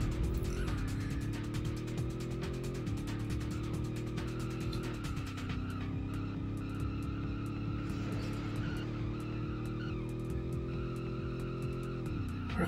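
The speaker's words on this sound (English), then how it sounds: "You can hear the tires screeching again." Continuous tire screeching and engine drone from cars racing on an extreme circuit in the arcade game San Francisco Rush 2049, loud and steady for the whole stretch, with shifting pitch and no talking.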